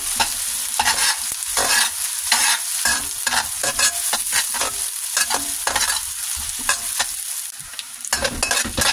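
Garlic sautés in a pan alongside onions for Filipino ginisang monggo, a loud steady sizzle broken by repeated scraping stirs of a utensil against the pan.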